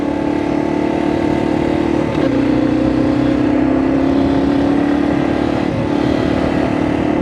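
A Yamaha TW motorcycle engine holds high revs in 5th gear at about 40 mph on a creek-side dirt road, a loud, steady close-up drone with a brief throttle dip near the middle.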